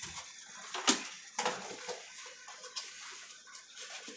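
Running water splashes over flour-dusted chicken during rinsing, with uneven bursts and gurgles as the pieces are turned by hand under the tap, fairly close and moderately quiet.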